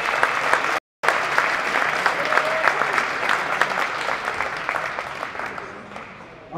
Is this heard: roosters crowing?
no